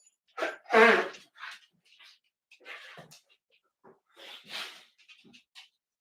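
Allergy sneezes from a man, a sharp loud burst near the start followed by several softer sneezes, sniffs and throat-clearing noises spaced out in otherwise quiet surroundings.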